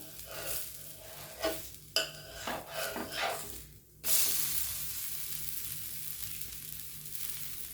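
Sweet potato batter ladled into a hot pan like an uttapam, with scraping and stirring clinks at first, then a loud steady sizzle taking over as the pancake fries.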